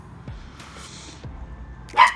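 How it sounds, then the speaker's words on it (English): A puppy gives a couple of short, soft barks and yips at a cat indoors, fairly close, with a brief higher yelp at the end. "My puppy's talking to the cat."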